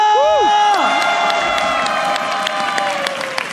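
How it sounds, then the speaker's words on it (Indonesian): Crowd cheering and clapping in an esports arena during a Mobile Legends match, a steady loud roar with scattered claps, while a voice speaks over the start. "MPL Arena mana tepuk tangannya?"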